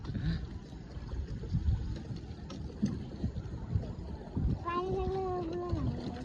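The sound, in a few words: boat moving on water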